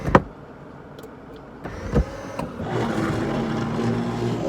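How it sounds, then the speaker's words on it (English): Electric convertible top on a Porsche 911 running, a steady motor whir with a couple of sharp mechanical clunks early on, then a fuller, louder hum as the roof mechanism works. "I'm about to check the convertible top for the first time"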